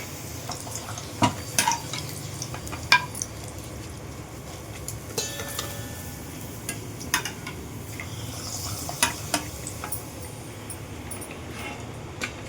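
Appalam frying in hot oil in a home kitchen, a steady low sizzle broken by scattered clinks and scrapes of a utensil against the pan, with no one speaking.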